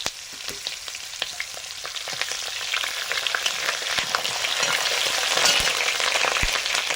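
Potatoes go into hot oil in a pan and fry for a Bengali vegetable chorchori. A steady, bright sizzle builds and grows louder over several seconds, with light clicks and stirring sounds close by and no talking.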